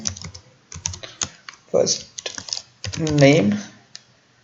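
Someone types an SQL self-join query on a computer keyboard, with quick irregular clusters of close key clicks, while a voice speaks briefly in between.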